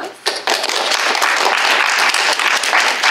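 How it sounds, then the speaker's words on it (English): Audience applause in a hall after the introduction of a textile-wearables design studio founder, a dense steady wash of many hands clapping that builds quickly and holds at full strength for several seconds. "Give a round of applause."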